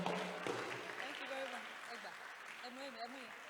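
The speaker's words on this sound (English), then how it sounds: "Please give her a round of applause." Quiet applause from an audience at a travel and tourism expo in Ibadan, a soft wash of clapping with a voice talking over it.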